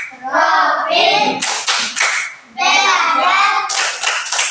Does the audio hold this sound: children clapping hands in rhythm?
yes